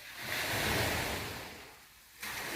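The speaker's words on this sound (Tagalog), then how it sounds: "dito sa ilalim ng rocks, may tubig na bumubuhos." Steady rushing water pours under rocks in a small seaside cave, roaring close by, a dense broadband wash that dips briefly and then surges back just as loud.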